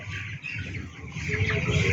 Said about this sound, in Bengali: এখানে দুই হাজার পাঁচশোটি ব্রয়লার